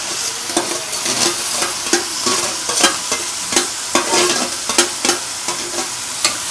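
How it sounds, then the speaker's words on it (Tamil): Chopped tomatoes sizzling and frying in a pan for Tamil-style egg curry, stirred with a spatula, giving steady crackling and regular scraping strokes roughly every half second, close and fairly loud. "இப்போ நம்ம இதிலே தக்காளி ஆட் பண்ணிக்கலாம்."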